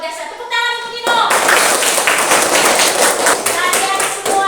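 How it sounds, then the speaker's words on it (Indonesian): Middle school class clapping for a student, starting after a brief voice and building into a close, uneven burst of many hands with some talk over it. "tepuk tangan untuk Ino"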